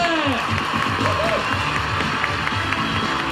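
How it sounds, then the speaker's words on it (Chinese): Crowd applause with cheering fills the clip, steady and loud, at the opening of a national Hakka talent show final, with a voice briefly audible over the clapping. "我们掌声鼓励一下吧"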